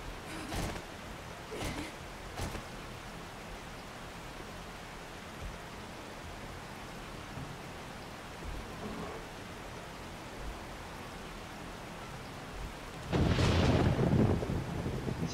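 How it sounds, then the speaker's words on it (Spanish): Rain falls steadily in the survival game 7 Days to Die as a soft continuous hiss, with a few faint distant rumbles of thunder and a louder crack of thunder rolling in near the end. "Encima con esta lluvia no se ve nada."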